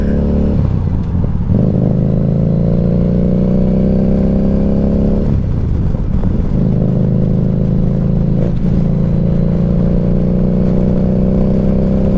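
A motorcycle engine roars loudly and steadily up close, its throttle dipping and revving back up a few times.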